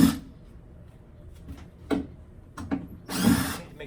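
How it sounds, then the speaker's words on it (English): A power drill removing a cabinet door fires off in short, separate bursts. An opening whir is followed by quick pulses and a final longer spin, all close and fairly quiet. "Get our handy dandy super drill here."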